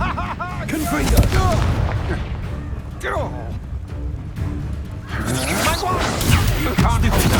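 Spell combat in the Hogwarts Legacy video game brings a Confringo blasting spell explosion among booming hits and whooshes, loud and dense, while a voice speaks over the fighting throughout.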